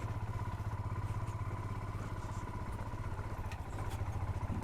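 A heavily loaded motorbike on the single-lane mountain road to Leh near Taglang La, its engine a steady, fairly quiet rumbling drone with faint rattling throughout, no voices.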